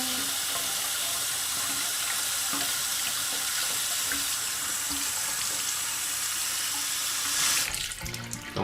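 Hot water runs steadily from a bathroom tap into a sink, a constant close splashing hiss that shifts near the end as the flow changes, with no voices.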